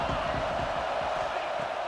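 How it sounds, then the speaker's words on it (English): A crowd roars steadily in the stands at a high school football game between the Chelsea Hornets and Chilton County Tigers. It is a continuous broad wash of cheering that holds even for two seconds. "This crowd bringing the energy and noise early"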